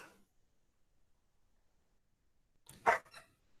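A single dog bark rings out clearly near the end after a long stretch of silence, preceded by a brief faint sound at the start.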